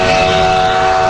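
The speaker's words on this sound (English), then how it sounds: "it's coming right into the station right now" A toy or model train, engine number 466, rolls into its station with a steady loud rumble and sustained whistle-like tones throughout the short moment, with no talk over it.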